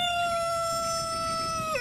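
A single long crow from a Red Leghorn rooster in Dell, Arkansas, loud and drawn out, holding a steady pitch before dropping off at the end.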